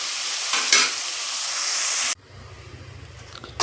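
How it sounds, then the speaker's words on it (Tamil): Tomatoes frying and being stirred in a pan for Bombay-style sambar make a loud, steady sizzle with a brief clatter of stirring early on, then the hiss drops off abruptly to a much quieter simmer. "இந்த தக்காளி நல்லா கொஞ்சம் வெந்து சுருண்டு வரட்டும்."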